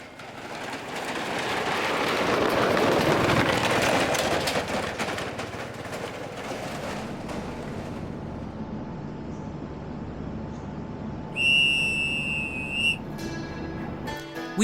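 Night train from Hanoi to Hue: a rumbling, rushing ride that eases into a steady drone, then a loud sustained train whistle near the end.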